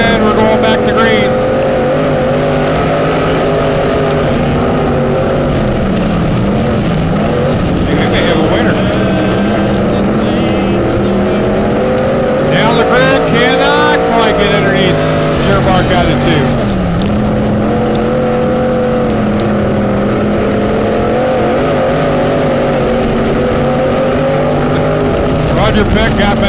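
Race cars roaring around the RPM Speedway oval during an A feature, a loud continuous engine drone with pitch swells as cars pass, while an announcer talks throughout.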